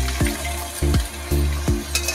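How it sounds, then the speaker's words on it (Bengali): Chopped ginger and capsicum sizzle in hot oil in a kadai, with four evenly spaced scrapes of a spatula stirring them through the steady close frying hiss. "দু মিনিট মতো আদা আর ক্যাপসিকামটা আমি একটু ভেজে নিলাম"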